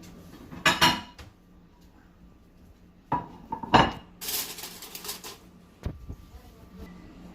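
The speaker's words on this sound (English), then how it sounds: "Now let's slice into there and see what's going on." A knife cuts into a melted, browned cheesy dish on a plate, giving a few clinks and scrapes of metal against the plate in separate short bursts, close by, with no talk.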